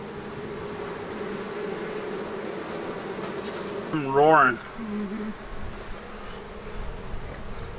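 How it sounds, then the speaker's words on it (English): Honey bees buzz steadily around a beekeeper working the hive, a close, continuous insect drone with a brief burst of a voice partway through. "you got a few bees on your shirt."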